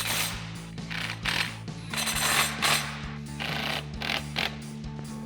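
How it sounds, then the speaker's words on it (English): Ratchet wrench with a 10mm socket tightening bolts into clips while installing OEM-style halogen fog lights on a 2019-2024 RAM 2500, heard as steady clicking bursts with a low background hum, close and fairly loud. "Now we'll tighten those down with our 10mm socket."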